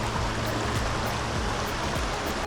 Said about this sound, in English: It's a gorgeous stream.